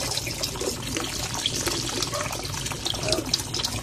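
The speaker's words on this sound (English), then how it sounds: "I ran a hose and it comes up here and it's sucking air" Continuous watery gurgling and bubbling with a steady hiss of air as an aquarium hose sucks in air, close by, churning without pause and no voices.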